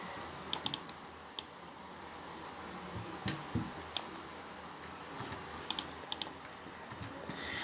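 Typing on a computer keyboard produces sparse, quiet key clicks, some single and some in quick clusters, spread unevenly over several seconds against a faint steady background hum with no voices.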